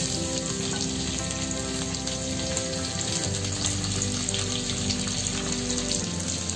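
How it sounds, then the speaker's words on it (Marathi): Chopped ginger and garlic frying in a pan for chicken sukka, a loud, continuous, dense sizzle that holds steady throughout without talk. "हे आलं आणि लसूण चांगलं परतून घेऊया"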